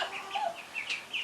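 Two-week-old ducklings give a quick run of soft, high-pitched peeps close by, over about a second.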